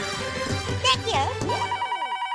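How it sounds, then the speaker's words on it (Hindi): A telephone rings during a comedy scene with a repeating electronic ringtone pattern, clear and close, with some background music and voices around it. "एक मिनट, फोन आया।"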